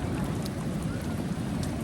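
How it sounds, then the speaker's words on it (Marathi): Rain falls steadily on a wet day in the Konkan countryside, a dense, continuous patter that fills the moment with no pauses and no talk. "पाऊस पडतोय"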